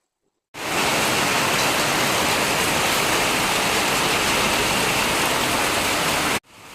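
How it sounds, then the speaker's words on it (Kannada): Heavy rain pours down in a dense, steady roar, loud and close, starting abruptly and holding constant until it cuts off near the end. "ಮಳೆ ನೋಡಿ ತುಂಬಾನೇ ಜೋರಾಗಿ ಬರ್ತಾ ಇದೆ"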